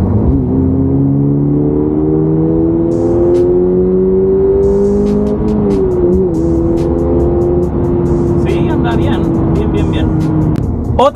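A Subaru's engine, heard from inside the car, pulls hard in third gear: a loud, continuous drone that climbs steadily in pitch, dips briefly at a shift midway, then keeps accelerating.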